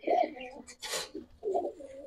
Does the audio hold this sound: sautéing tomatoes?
no